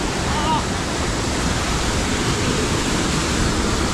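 A small waterfall in Infanta, Quezon pours with a steady, loud, close rush of water that stays even and unbroken throughout.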